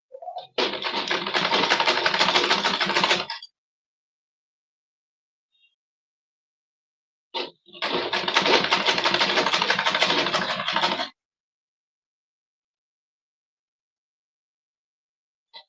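Sewing machine stitching a corset gown runs in two close bursts of rapid mechanical whirring, each about three seconds long, separated by near silence.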